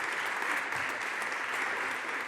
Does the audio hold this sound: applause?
yes